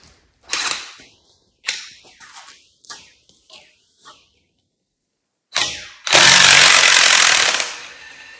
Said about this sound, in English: Now let's see how easy these bolts come out.